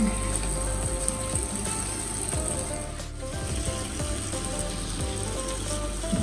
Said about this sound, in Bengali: সম্পূর্ণ ভাজা হয়ে গেছে। আমি আরেকটু ভাজবো